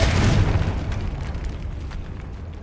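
A Confringo spell explosion in Hogwarts Legacy, one loud close boom that rolls on and fades slowly over a couple of seconds, no talking.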